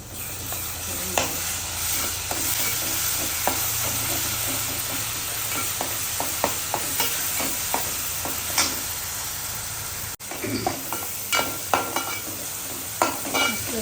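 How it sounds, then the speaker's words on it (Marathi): Masala paste for a mixed fish curry cooking in a pan, a continuous sizzle with frequent scraping stirs and spoon taps against the pan, loud and close. "आता पेस्ट शिजून घेते"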